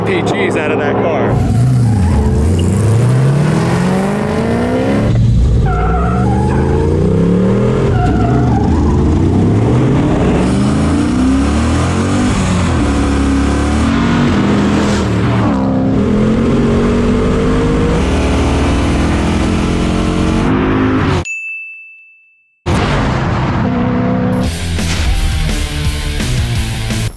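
V8-swapped cars drag racing, including a 6.4L Hemi Jeep, with loud engines revving and roaring through hard acceleration under almost constant excited talk, then a brief gap before the noise resumes.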